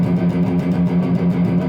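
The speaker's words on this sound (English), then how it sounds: "If I were to only play 8 notes," Palm-muted electric guitar chugs out steady eighth notes in a death metal rhythm style, a regular pulse of low, tight muted strums played alone at an even, moderately loud level.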